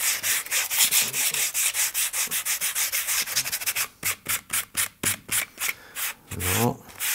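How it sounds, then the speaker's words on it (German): Fine sandpaper rubs along the edge of a leather hunting bag in quick back-and-forth strokes, steady and close at first, then sharper separated strokes in the second half, with no talk. "Und das Ganze jetzt noch mit einem feinen Schleifpapier."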